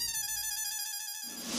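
A phone ringtone plays as a call is placed, a bright, tonal electronic chime holding steady for about a second before cutting off into a different sound.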